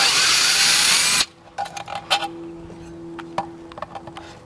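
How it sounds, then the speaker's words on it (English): A power driver whirs loudly for about a second as it backs bolts out of a license plate flipper motor assembly, then stops, leaving small clicks and handling noises of the parts being taken apart. "First step to do that is we got to open the assembly by taking off these 4 bolts."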